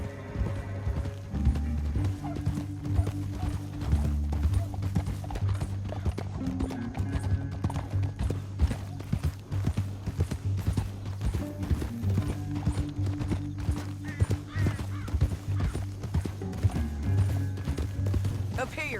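Steady clip-clop of horse hooves at a quick gallop in Red Dead Redemption 2, with an occasional whinny and voices talking over the rhythm.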